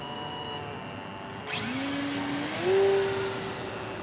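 The electric motor of a Great Planes Kunai RC powered glider spins up in flight, a thin whine that jumps in level and climbs in pitch before holding steady.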